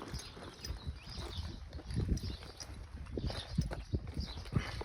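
A horse's hooves shuffle and clop irregularly on the ground nearby as it stands being saddled, soft thuds and scrapes coming in uneven clusters, with no talking.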